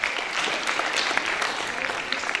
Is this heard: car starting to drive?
no